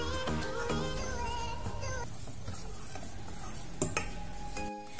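A spoon stirs chocolate muffin batter made with warm melted chocolate, giving soft scraping and clinking against the bowl with a few sharper knocks near the end.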